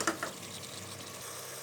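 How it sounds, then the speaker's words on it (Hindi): Mutton and other ingredients frying in a pan for mutton pulao, with a brief pair of utensil knocks at the start followed by a continuous low sizzle, close and without talk. "अब हम बाकी इंग्रेडिएंट्स को इसमें भूनते हैं।"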